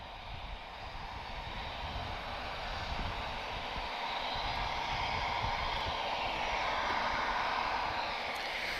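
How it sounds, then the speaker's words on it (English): An inbound Lufthansa airliner at Lisbon Airport gives a distant, steady broadband engine roar that swells slightly over several seconds. "So the Lufthansa, that's inbound, guys."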